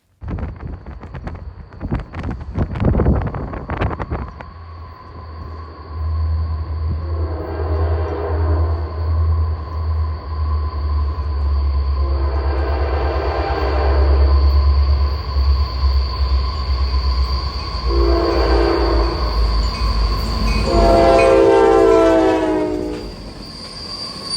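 An Amtrak train led by GP60 locomotives passes close by, loud and steady, with rumbling wheels and several long horn blasts, the last sounding near the end.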